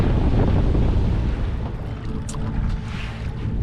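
Continuous low rumble of a small 20-year-old Sea Hog boat moving over water, with wind buffeting the microphone and splashing waves throughout.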